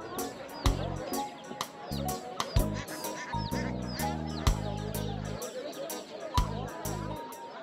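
Ducks quack repeatedly in loud, close bursts at the poultry section of a riverside village market, with a busy crowd murmuring and people talking in the background.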